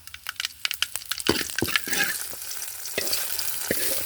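Mustard seeds crackle and pop rapidly in hot coconut oil, then curry leaves and chillies hit the pan with a loud rushing sizzle that holds steady, close up with no voices.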